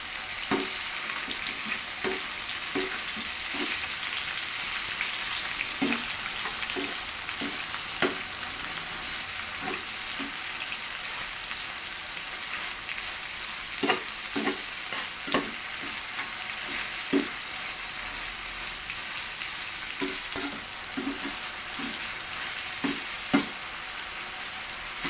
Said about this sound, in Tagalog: Isain natin ang kamatis.